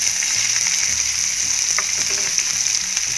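Loud, steady sizzling of onions frying in hot oil for dhaba-style matar paneer, a constant crackling hiss close up with faint stirring clinks.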